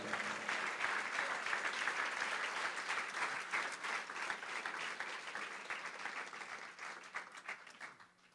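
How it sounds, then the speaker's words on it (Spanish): A church congregation applauds steadily and loudly for several seconds, the clapping thinning out and fading near the end. "Dale un fuerte aplauso al Señor."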